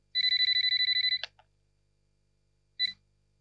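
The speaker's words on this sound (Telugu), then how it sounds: "ఫోన్ మోగుతోంది." A telephone rings with a fast electronic trill that lasts about a second, then after a pause a second short burst begins. The ring sounds clear and alone, with no one talking.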